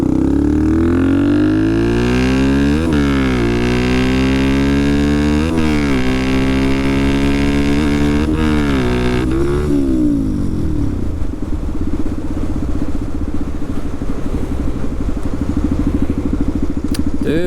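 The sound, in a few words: Benelli TNT 135 motorcycle test ride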